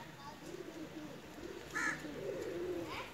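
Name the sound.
Pakistani pigeon cooing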